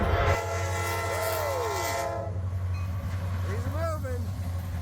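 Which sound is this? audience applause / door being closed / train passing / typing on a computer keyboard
train passing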